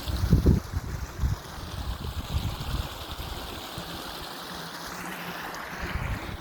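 A small stream in the Lozère countryside of the Margeride flows with a continuous soft rushing and gurgling, mixed with light wind noise and some handling bumps near the start.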